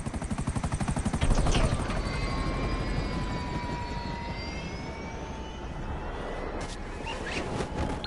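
Aircraft engine in a PS4 video game, a loud continuous thrumming drone with a pulsing beat and rising and falling whine tones, steady throughout.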